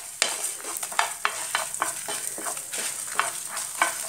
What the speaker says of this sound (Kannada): ಅದೇ ರೀತಿ ಸ್ವಲ್ಪ ಜೀರಿಗೆ, 1-2 ಕಾಳು ಮೆಂತೆ ಹಾಕಿ ಚೆನ್ನಾಗಿ ಹುರ್ಕೊಳ್ಳಿ.